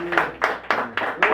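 A church congregation claps in a slow, even rhythm, five distinct hand claps close by with a faint voice under the first beat.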